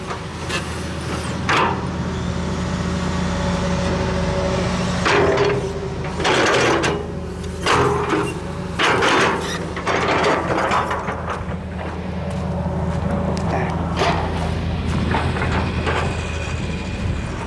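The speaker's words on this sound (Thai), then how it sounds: "เครื่องจักรกำลังทำงานอยู่" Heavy machinery works at an agricultural project site in Nong Leng Sai, Mae Chai district, Phayao, Thailand, with a steady loud mechanical drone, ratcheting and grinding clatter, and repeated heavier bursts and clanks throughout.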